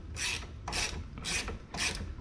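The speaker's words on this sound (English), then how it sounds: "using the 18mm ratchet wrench for the nut" An 18mm ratchet wrench tightening a nut on a 2011 Lincoln MKS rear knuckle, with four evenly spaced rasping clicks of the pawl as the handle swings, close and crisp.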